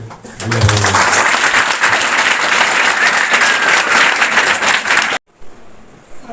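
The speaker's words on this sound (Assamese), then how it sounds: "এটা সকলোৰে খুব জোৰকৈ এটা হাত চাপৰি" Loud, sustained audience applause at a school felicitation ceremony, a crowd clapping vigorously for about five seconds before it cuts off abruptly, leaving faint room noise.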